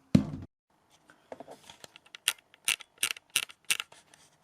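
A rivet nut being threaded into place with an installation tool, heard as a short series of crisp metallic clicks and ratcheting ticks, close and fairly quiet, following an initial dull knock.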